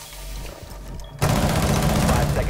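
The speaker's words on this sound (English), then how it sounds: "Oh god, I missed all of my shots there." Sudden loud burst of automatic gunfire in Rainbow Six Siege, dense and continuous after a quieter stretch of room noise, with a voice faintly present underneath.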